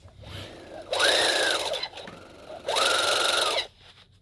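A sewing machine stitches a sleeve seam in two steady runs of about a second each, separated by a brief pause. The whirring is close and loud with no talking.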